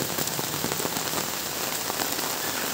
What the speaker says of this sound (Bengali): আজকের আমাদের এলাকাতে প্রচুর বৃষ্টি হয়ে গেল